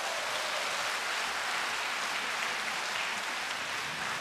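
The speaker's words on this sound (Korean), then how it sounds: "단원들께 다시 한번 큰 박수 부탁드립니다" Steady applause from a large audience at a Buddhist hymn concert by a men's vocal ensemble, heard somewhat distantly as an even, continuous patter of clapping.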